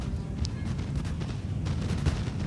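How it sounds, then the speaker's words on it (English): Infantry musket volley fire in Napoleon: Total War: a dense, rumbling wash of distant, overlapping shots and booms rolls on continuously, with a few sharper cracks poking through. "Some infantry fire, or volley fire, I should say."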